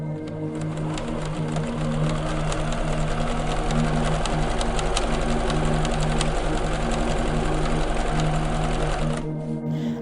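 A tailor's sewing machine in India runs steadily for about nine seconds, a fast continuous mechanical whir and clatter with a low hum, then stops abruptly; no voices.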